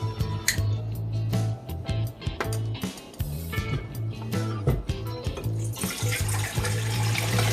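Warm tap water runs into a container for homemade pizza dough, a close, splashing stream with clattering and a low electrical hum underneath, the flow growing brighter toward the end.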